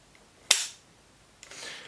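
A Brno ZH301 over-and-under shotgun fires a single sharp, loud shot off the rear trigger, followed by a fading tail and a softer rustle a moment later.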